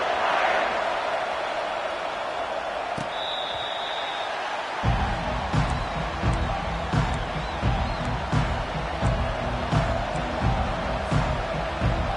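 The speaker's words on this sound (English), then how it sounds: "this home crowd is fired up and ready to make a difference today" A home crowd at a Stanford versus Notre Dame college football game roars at kickoff, a broad distant wash of cheering that swells into rhythmic chanting and stomping in the second half, with no talk over it.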